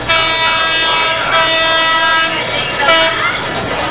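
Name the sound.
Philippine National Railways PNR train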